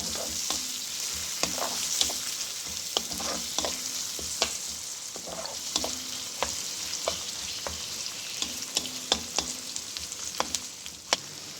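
Chopped onions with green chillies sautéing in a pan for bhindi masala, giving a steady close sizzle with frequent light stirring scrapes and clicks throughout.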